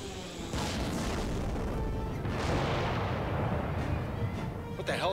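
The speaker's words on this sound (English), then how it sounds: "Torpedo!" Torpedo impact on a starship in a Star Trek game: a sustained, rumbling explosion that swells and rolls for several seconds, ending with a bright crackling burst, with voices heard faintly around it.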